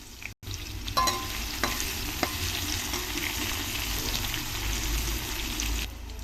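Bay leaf and onion pieces fry in three spoons of oil in a pan on a stove, giving a loud, continuous close sizzle with a few stirring clicks and a brief dropout near the start.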